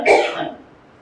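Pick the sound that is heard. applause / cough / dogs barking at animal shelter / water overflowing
cough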